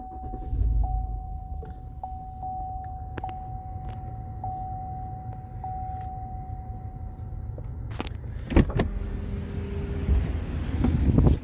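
A 2016 Cadillac Escalade Platinum starts with its push-button ignition. A steady repeating chime plays first, then a sudden loud burst of the engine catching near the end, followed by a fuller rumble.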